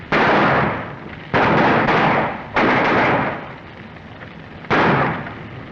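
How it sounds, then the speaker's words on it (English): Gunshots from an early John Wayne western: four loud, sharp reports at irregular intervals, each followed by a long echoing decay. "Still shooting at their backs, Hayes."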